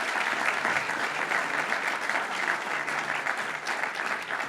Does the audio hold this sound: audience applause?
yes